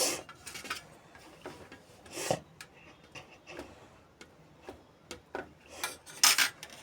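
Fork pressing and scoring the edges of stuffed wheat flatbread dough, a quiet series of soft rasping taps and light scrapes at an uneven rhythm, close up with no talking.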